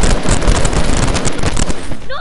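Rapid, loud automatic gunfire from the video game Fortnite runs almost continuously in dense bursts, filling the short stretch up close.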